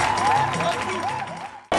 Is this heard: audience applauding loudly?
yes